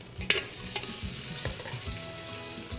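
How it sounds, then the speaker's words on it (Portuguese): Chicken pieces frying in a pan, a steady close sizzle with a few scraping stirs and clinks near the start, continuous and without talk. "Mexeu o frango, agora vamos aguardar ele fritar."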